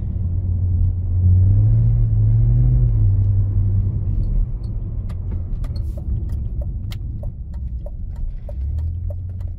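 A BMW car engine strains in third gear at about 2000 RPM on icy snow, a loud low rumbling drone that swells and sags, with sharp clicking ticks over the later part.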